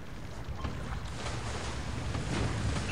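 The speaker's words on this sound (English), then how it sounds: "do we hear any bubbles? Yes, we do." Submarine bubbles in the War in the Pacific naval strategy game: a steady, dense wash of bubbling, hissing noise that holds at an even level for the whole stretch with no voices.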